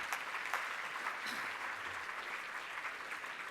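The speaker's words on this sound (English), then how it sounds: "So can we give them all a round of applause before I announce the winner?" An audience at the Beautiful Bakersfield Awards applauds the nominees, steady dense clapping from a room full of people, fairly faint and even throughout.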